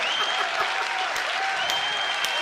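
Audience applause at a stand-up comedy show, a dense steady clapping crowd filling the room, moderately loud and continuous with no talk over it.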